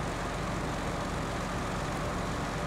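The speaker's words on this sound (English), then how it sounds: "let me know if the engine sound is too loud for stream." A Kenworth truck engine in a driving game pulling a construction trailer, a dense, steady low rumble with broadband roar that runs loud and unbroken throughout.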